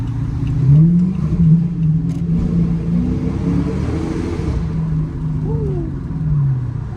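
A Dodge Hellcat drives through a tunnel, its engine rumbling and swelling with a low revving drone that echoes, while people talk over it.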